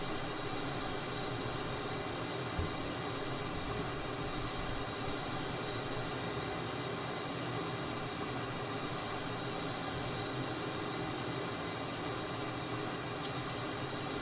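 A steady, unbroken jet engine roar and hiss of a T-37 Tweet trainer jet in Microsoft Flight Simulator plays throughout, even in level and without people talking.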